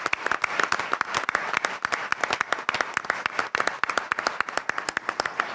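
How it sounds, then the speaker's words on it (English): An audience at an Indiana legislative session gives police and fire officials a round of applause, with many hands clapping in a steady, crisp patter that is moderately loud and carries no talk. "can we give them a round of applause for keeping our community safe?"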